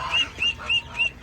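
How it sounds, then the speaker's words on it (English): A single distressed duckling peeps loudly and urgently among a group of chickens, giving four evenly spaced, shrill calls close by with no talking. "And we have one single duckling who's losing his mind."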